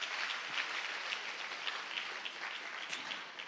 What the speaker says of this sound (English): I think they deserve one more round of applause